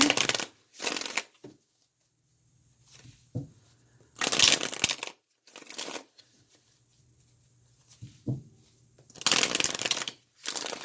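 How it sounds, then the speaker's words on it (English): Tarot cards being shuffled in several separate bursts of riffling and crushing rustle, close and fairly loud, with quiet pauses between them and no talking. "I'm going to use tarot as well to see what else the transit has to tell you"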